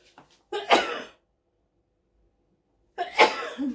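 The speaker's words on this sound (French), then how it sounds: "Ah, je vais éternuer." Two separate sneezes, close and loud, with a gap of silence between them and a faint breath just before the first.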